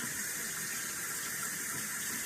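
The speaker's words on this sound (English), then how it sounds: "We don't want just hot water on though either. We want it to be warm." Warm water runs from a tap in a steady, even stream, faint and unbroken for a couple of seconds with no voices.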